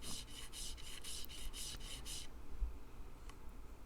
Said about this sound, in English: I'll bring it to its final thickness by hand using some 80 grit and 120 grit